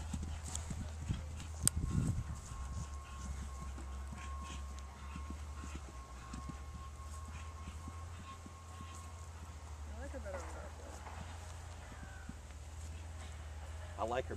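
Horse hooves clip-clopping as the horse is ridden, a soft, rhythmic and fairly distant series of steps under a steady low hum, with people talking at times.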